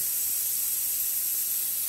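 A CTU spray nozzle sends out air and liquid together in a steady, loud hiss that stays even from start to finish, with no voices.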